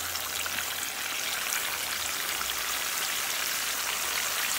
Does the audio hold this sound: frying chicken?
yes